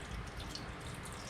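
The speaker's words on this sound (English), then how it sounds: "Now let's just fill with water." Water runs steadily into a pot for bone broth, a continuous close hiss and splash with no talk.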